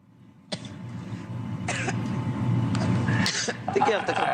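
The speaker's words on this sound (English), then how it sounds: "She's coughing." A woman coughs a few times, sharp bursts over a steady background hum, with a bit of throat clearing near the end.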